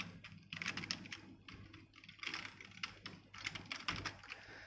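Python code typed on a computer keyboard, with fast, steady clatter in quick runs of close keystrokes that barely pause over a low, constant background hum.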